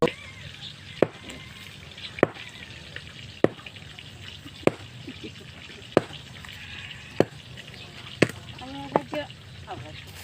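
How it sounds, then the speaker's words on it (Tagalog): Milkfish (bangus) sizzles in a frying pan with a steady hiss and crackle, broken by sharp ticks about once a second and a few louder pops near the end. "malapit na maluto ito yung pinarito kong bangus"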